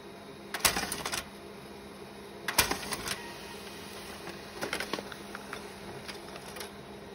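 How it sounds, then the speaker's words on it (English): A desktop printer running a double-sided zine page gives clacking mechanical bursts at intervals over a steady whirring hum, moderately close and without talk. "You can see the printer light is blipping away there."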